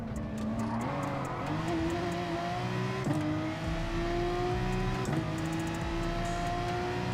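A Volkswagen race car in a racing video game revs high and pulls away, its engine note climbing steadily in pitch with brief dips at gear changes, loud and continuous throughout with no talk.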